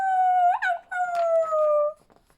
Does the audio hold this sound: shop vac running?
no